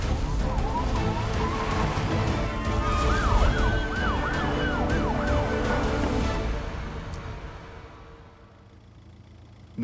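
A minister's ambulance siren wails in rising and falling sweeps over the mixed noise of a film scene, loud at first and then fading away toward the end.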